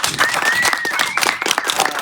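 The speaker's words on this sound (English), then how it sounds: "let's give them a big round of applause" An audience at a lunch gathering applauds its sponsors, brisk, dense clapping from a crowd, moderately loud and steady, with a faint tone running under it.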